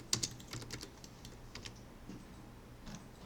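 Computer keyboard keys are pressed as shortcuts in modeling software. Soft, quiet clicks come in small scattered bursts, close and without talk.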